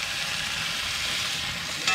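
Butter sizzles and fries steadily in a hot pan with rosemary and garlic, a close, even hiss that holds throughout, with no one speaking.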